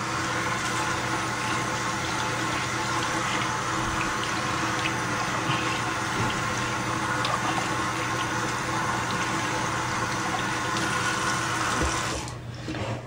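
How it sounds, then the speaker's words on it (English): Steady running water from a tap rinsing soap off, a continuous broad wash of splashing that stays loud and even throughout before easing slightly at the very end. "So I'm just going to rinse it off now."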